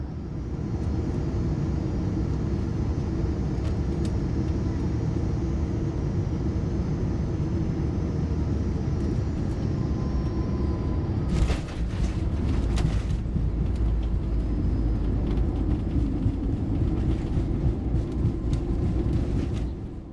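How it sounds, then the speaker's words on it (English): An Air France airliner lands at Charles de Gaulle, a steady loud cabin roar of engines and airflow that surges with a brief rattling thump partway through, with no talk. "We're soon making our approach to Charles de Gaulle,"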